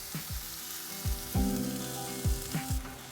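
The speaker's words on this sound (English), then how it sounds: "Saute for 2 to 3 minutes." Garlic, ginger and green onions sautéing in avocado oil in a non-stick pan over medium heat, a close steady sizzle with several soft clatters and stirring knocks.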